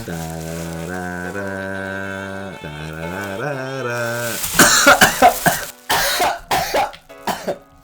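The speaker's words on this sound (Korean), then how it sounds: "지금 누가 기침 소리를 내었어?" A sustained hummed tone, then several sharp coughs and throat-clearing bursts close to the microphone, with short pauses between them.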